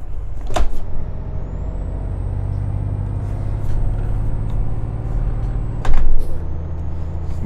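A truck in Euro Truck Simulator 2 gathers speed with a steady, close engine drone and a faint rising whine. Two sharp clacks break in, one near the start and one near the end.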